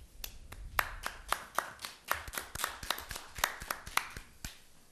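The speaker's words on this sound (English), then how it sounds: "You got the golf clap." Light, polite golf clap at a town selectmen meeting: a few people clapping softly in a sparse, uneven rhythm for several seconds, with no voices over it.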